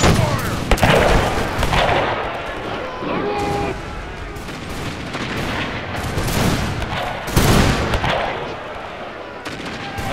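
Massed rifle volleys and scattered gunfire crackle through a battle in a Mahdist War video game, with several sharp loud bursts standing out over a continuous rumble of distant shooting.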